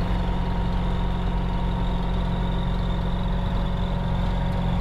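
A light aircraft engine idles while warming up before a flight, with a constant, loud, even drone and a low hum that never changes, with no voices over it.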